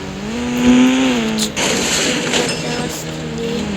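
A car in a 3D driving video game speeding up, with a synthetic engine tone that climbs in pitch, then a noisy burst and a steady hum; game effects sound close and loud, with no talking.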